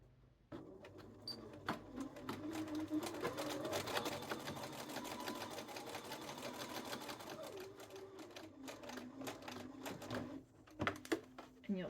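A sewing machine stitches the collar of a duster garment in quick rattling runs of needle clatter, close and fairly quiet, with brief pauses and clicks near the end.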